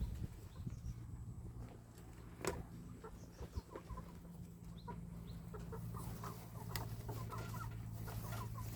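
Chickens cluck softly and intermittently over a steady low hum, with occasional sharper clucks and faint rustling.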